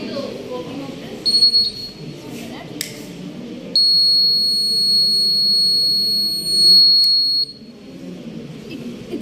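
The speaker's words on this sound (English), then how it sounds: "It's buzzing now" An electronic buzzer in a student-built digital circuit with an infrared receiver sounds a steady, high-pitched electronic tone in two long bursts, close by, while a person talks over it.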